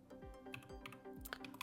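Keys clatter on a computer keyboard in a quick, quiet run of taps, close and steady with no other sounds.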